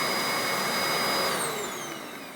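A Hoover WindTunnel S3670 canister vacuum runs on high suction, a loud, steady whine with a high-pitched tone that shifts slightly, then eases a little toward the end.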